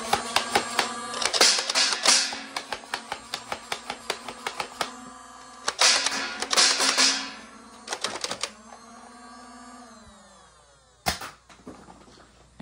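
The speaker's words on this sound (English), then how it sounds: "That's how you use a front pump shotgun." A Nerf Motoblitz toy blaster fires in bursts, rapid mechanical clicking and clattering in close, loud rhythmic runs, with a whirring motor, pauses between volleys and a final sharp clack.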